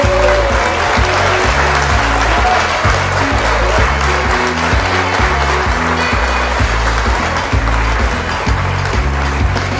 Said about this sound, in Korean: 여러분들 큰 박수 한번 부탁드리겠습니다